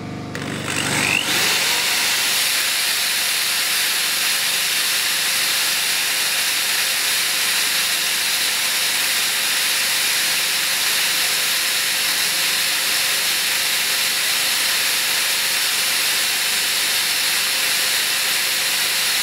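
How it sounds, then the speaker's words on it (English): A buffing wheel polishing an abalone shell ring spins up and then runs as a steady, loud, hissing whine that continues unbroken for nearly twenty seconds, with no voices. "So next we'll get onto a buffing wheel."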